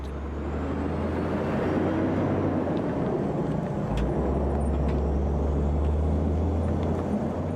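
A custom-built Australian mining road train, the 205-ton, 160-foot Centipede with a 550-horsepower engine and 18-speed gearbox, drives past with a loud, steady low engine drone and broad road roar throughout.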